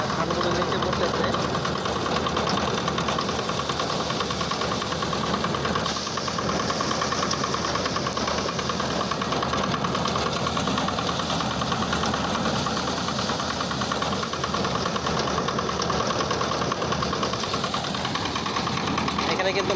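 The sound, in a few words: rice paddy threshing machine running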